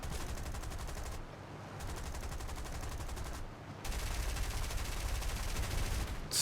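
Continuous rapid machine-gun fire from aircraft guns in War Thunder, with a Sunderland Mk.III flying boat involved; several long sustained bursts separated by short pauses, loud and dense, with no talk.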